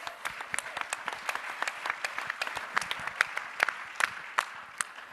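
A sparse audience gives a round of applause, with individual claps distinct and uneven rather than a dense roar, moderately quiet throughout.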